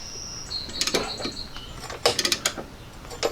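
Clamp pressing a ball joint into the front end of a Jeep XJ, giving a close, irregular series of creaks, ratcheting clicks and metallic squeaks in short bursts, with no talking.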